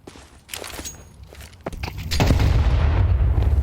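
A grenade goes off in a competitive Counter-Strike match: scattered footsteps and shots give way to a sudden heavy, low blast that keeps rumbling loudly to the end.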